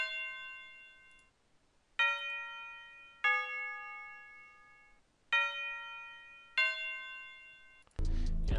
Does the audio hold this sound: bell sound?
yes